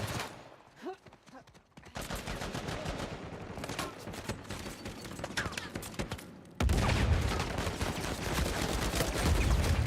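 An ARX rifle fires in rapid automatic bursts in Uncharted, a fast run of sharp cracks at close range that gives way to a louder, denser roar of gunfire, with faint voices in the background.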